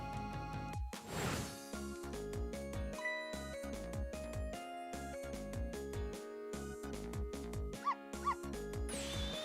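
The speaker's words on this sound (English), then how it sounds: "I barked. You bet I did." Dog barking and yipping from the Ghost Trick video game plays over busy game music, with short repeated barks and whimpers mixed into the melody at a moderate level. No one speaks.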